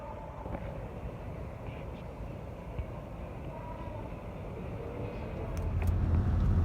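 A car drives along a road, heard from inside as a steady low rumble and tyre roar that swells louder near the end.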